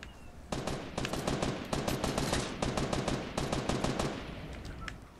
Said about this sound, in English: Where is he shooting?